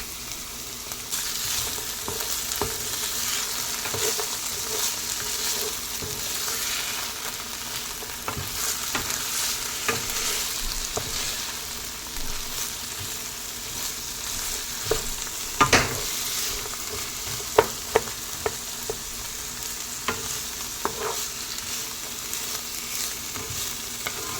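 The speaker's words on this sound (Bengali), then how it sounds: "হালকা নাড়াচাড়া করে এবারে দিয়ে দেব কেটে রাখা গাজর আর বিনস" Carrots and beans being stirred in a lightly oiled frying pan for egg fried rice: a steady sizzle holds throughout, broken by a few sharp scrapes and clicks of the spoon against the pan, close and fairly loud with no talk.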